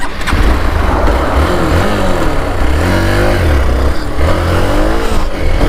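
A Hero Xpulse 200 4V motorcycle from 2022 revs loudly and steadily while being ridden, its engine note rising and falling under heavy wind rush, with no voices.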